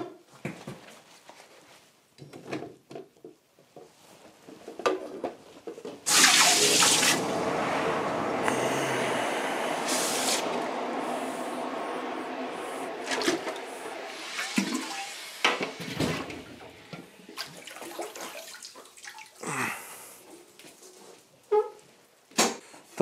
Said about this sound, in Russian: а я буду калить сейчас на воду, и очень агрессивно и неправильно